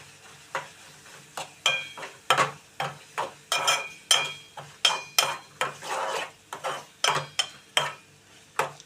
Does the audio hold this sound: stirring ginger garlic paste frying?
yes